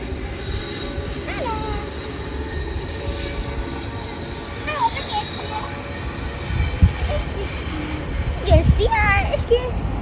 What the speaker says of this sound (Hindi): ट्रेन गुजर रही थी।